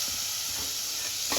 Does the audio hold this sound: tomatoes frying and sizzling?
yes